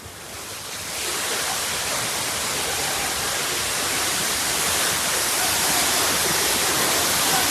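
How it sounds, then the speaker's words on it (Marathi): Dhangar waterfall roaring in heavy monsoon rain, a loud, dense and continuous rush of falling water that swells after the first second and then holds steady, close by with no voices. "पाणी खूप जबरदस्त वाहत आहे"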